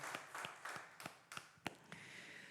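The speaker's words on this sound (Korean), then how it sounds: "우리 하나님 앞에 감사의 박수를 올려드립시다" Scattered, faint claps from a church congregation during a Sunday worship service, a handful of separate hand strikes spaced unevenly rather than a full ovation.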